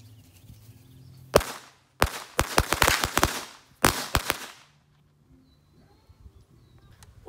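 Fireworks going off outdoors during a Fourth of July celebration on a farm, heard as sharp bangs and crackling bursts in three clusters, then a quieter stretch of faint background noise.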